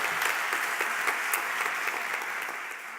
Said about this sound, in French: on peut t'applaudir une fois de plus